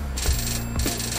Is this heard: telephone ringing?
yes